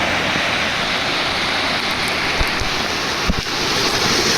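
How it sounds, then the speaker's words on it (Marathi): A waterfall on Parshuram Ghat roars as a steady, loud, broadband rush of falling water, continuous throughout with faint wind buffeting the microphone. "घाट उतरताना धबधबा लागतो आहे आणि तोच बघायसाठी आता आपण चाललो आहे"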